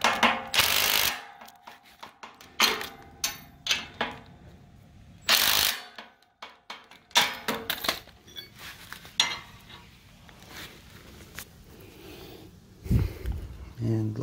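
A hand ratchet fitted with a long 17 mm socket tightens the axle bolts on a Harbor Freight trailer, giving loud bursts of rapid clicking separated by pauses, with someone talking in between.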